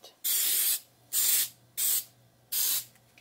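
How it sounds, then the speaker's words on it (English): Cooking spray hisses onto aluminum foil in four short bursts, each about half a second, separated by brief pauses, close and loud with no talking. "we're gonna spray each side of our aluminum foil where our bread would rest"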